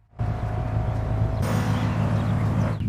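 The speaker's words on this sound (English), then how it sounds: "when your car is idling, there's a different sound for each car, and it's a bit louder, and above all, a bit more realistic" A car engine idling in the video game Forza Horizon 6, a steady low rumble with a faint mechanical whine, holding constant and fairly loud before a brighter, rougher surge partway through.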